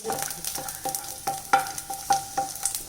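Garlic frying in a pan for coconut lentil chutney, with a spatula scraping and stirring in a steady rhythm of about nine sharp strokes over a soft continuous sizzle, close and fairly loud.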